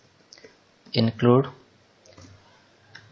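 A few faint, sparse keyboard clicks come through while C code is being typed, set around a short spoken word from a nearby voice.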